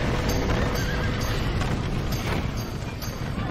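A horse in Red Dead Redemption whinnies while hooves clip-clop, with a dense, loud rumbling action backdrop and repeated sharp knocks throughout.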